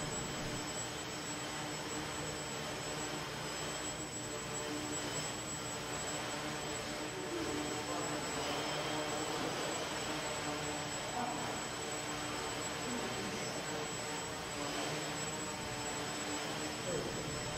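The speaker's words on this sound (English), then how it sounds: "Here the quadrotor autonomously transitions from inverted to upright flight." A variable pitch quadrotor flying and flipping from inverted to upright flight, heard as a steady high-pitched rotor whine with a fluctuating buzz throughout, fairly faint and unbroken.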